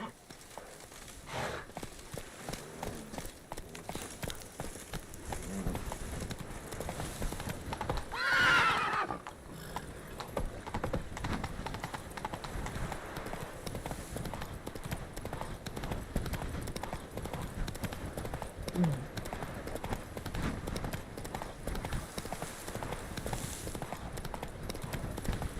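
Rhythmic clip-clop of Roach the horse's hooves galloping on and on in The Witcher 3 video game, with a loud neigh partway through and steady hoofbeats throughout.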